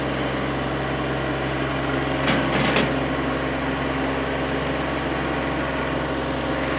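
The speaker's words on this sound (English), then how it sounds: "the John Deere is going to have a tractor in neutral to start" A 2018 John Deere 1025R sub-compact diesel tractor runs at a steady, loud idle, the engine drone constant throughout with a brief burst of mechanical noise partway through.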